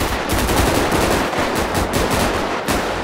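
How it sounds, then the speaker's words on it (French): Dense, continuous automatic gunfire in a Grand Theft Auto V LSPDFR police mod shootout with bikers, loud rapid bursts filling the whole stretch without pause. "4 individus qui nous tirent dessus."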